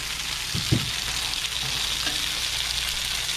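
Perogies and potato wedges frying in a pan, a steady close sizzle with a couple of soft clatters as pieces are turned, no talking.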